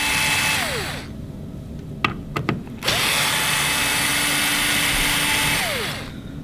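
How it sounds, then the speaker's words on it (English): A power drill spins up to loosen and remove the screws on a rifle handguard, whirring steadily in two close, loud bursts with a few clicks and rattles between them. "now we're going to loosen the screws here on your handguard, or take them out actually"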